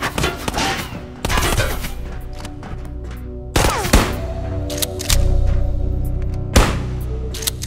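Shotgun blasts in the video game Ghosts of Tabor: several loud, close booming shots spaced a second or two apart, each with a sharp crack and a rumbling tail over steady game background noise.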